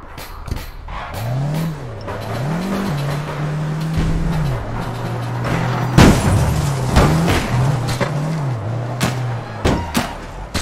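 A car in the video game APB Reloaded drives along, its engine droning and shifting pitch as it revs up and settles, with occasional thuds and impacts over the steady motor.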